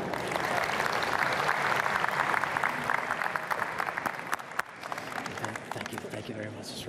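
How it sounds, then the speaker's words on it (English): Sustained applause from a conference audience fills the hall, dense and steady, fading slightly toward the end. "another round of applause for Yvette Knuff."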